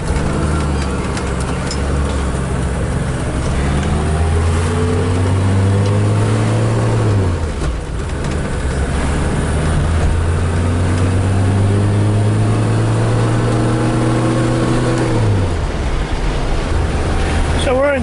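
A 1976 BMW 2002 with a five-speed gearbox drives along, its engine droning loudly and climbing in pitch through each gear, with clear drops at two shifts. Heavy wind rush runs throughout, and someone talks over it.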